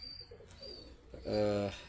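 Pigeons kept at home, including a red-eyed female, giving a soft cooing call near the end after a few faint chirps and rustles in a quiet room.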